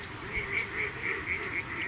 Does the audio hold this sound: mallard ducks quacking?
yes